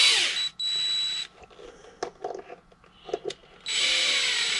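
A power drill drives screws into brass toe plates on Cobbler Union blind-stitched boots: loud steady whirring bursts at the start and end, with quieter clicks and handling noises between them.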